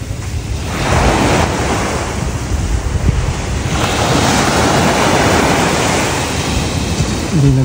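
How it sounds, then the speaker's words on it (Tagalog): Ocean waves wash steadily onto a beach in Zambales after rain, a loud continuous roar of surf mixed with heavy wind buffeting the microphone, with no voices. "Hindi na ganun masyado maalon, pero maalon pa rin."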